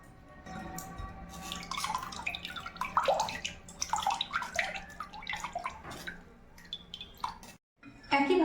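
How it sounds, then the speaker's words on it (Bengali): Homemade organic colour liquid strained through a sieve, giving steady dripping and trickling of liquid with small clinks of utensils, fairly close, with a brief silent gap near the end. "আমি একটা ছাঁকনি নিয়েছি, ওই ছাঁকনির সাহায্যে এগুলোকে আগে ছেঁকে নেব।"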